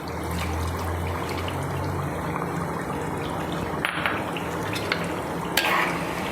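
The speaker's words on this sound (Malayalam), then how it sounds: "നന്നായിട്ട് ഇളക്കാം." Pork vindaloo curry with coconut milk being stirred in a pan: a soft, continuous bubbling sizzle with occasional scraping and clinks of the spoon, close and moderately quiet, with no talking.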